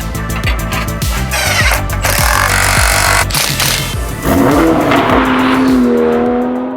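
A loud Toyota Supra sports car with an AWE Touring catback exhaust revs up and down in sharp, repeated bursts, then settles into a steady rising drone, close and with no one speaking.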